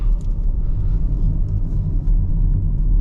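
A 2023 Renault Espace SUV driven fairly hard on the road, heard from inside as a loud, steady low rumble of engine and road noise that holds even throughout, with no talk.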